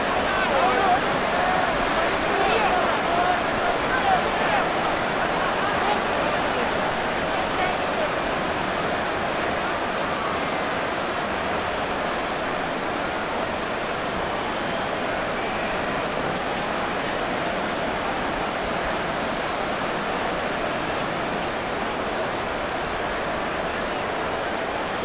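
Steady rain falls during a football game between the New England Patriots and New York Giants in Madden NFL 24, an even, continuous hiss of pattering drops that holds unchanged throughout with no voices.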